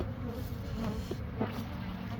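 Honey bees buzz around an opened weak colony, an autumn swarm hive being checked, a steady close drone with a soft rise partway through.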